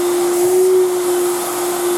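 A vacuum cleaner runs steadily for the whole stretch, a loud continuous whooshing roar over a fixed droning motor tone, with no other sounds.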